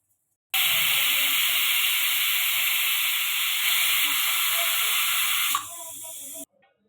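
Pressure cooker whistling while guar and potato curry cooks: a loud, steady, high steam hiss starts abruptly, holds for about five seconds, then weakens with a sputter before cutting off.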